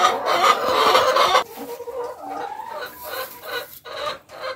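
Backyard hens cluck in a busy, overlapping chorus, loud and close at first, then quieter scattered clucks continue in short bursts with no talking.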